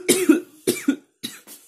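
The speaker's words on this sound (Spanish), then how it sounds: "que tengo una tos" Four coughs in two quick pairs, close and fairly loud, with brief silences between them and no talking.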